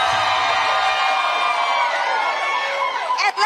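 A large rally crowd roars and cheers in a sustained, loud wash of voices and whoops that holds steady before a brief dip at the end.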